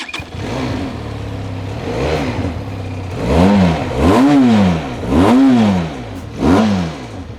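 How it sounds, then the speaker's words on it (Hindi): A Benelli TRK 502 500cc motorcycle engine fires up and idles, then is revved repeatedly in four strong, rising-and-falling bursts, loud and close. "अब मैं आपको इसका साउंड सुनाता हूँ"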